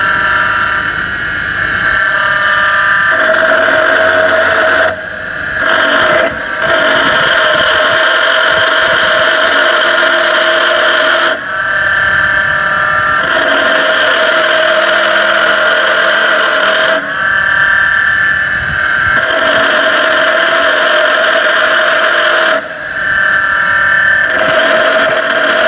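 A grinding machine resharpens the minor flank of a brazed single point cutting tool, giving a loud steady whine with ringing tones, broken by short gaps and changes in pitch as the tool touches and leaves the wheel.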